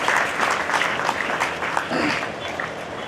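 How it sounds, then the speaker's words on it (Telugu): An audience applauding at a sports prize ceremony held on a sports ground, dense continuous clapping from many hands, fairly loud and sustained for a few seconds. "ఒకసారి గట్టిగా చప్పట్లు కొట్టి మీ ఆమోదం తెలపాలని చెప్పి చెప్పుకుంటా ఉన్నాను"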